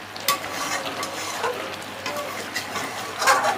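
Pudina (mint) green chicken sizzles in oil while being stirred in a pan, with a close, continuous frying hiss and occasional spoon scrapes.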